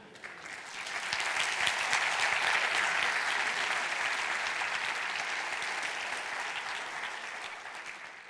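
Audience applause at a UX design talk, swelling within the first second into a full, even round of clapping that slowly thins toward the end.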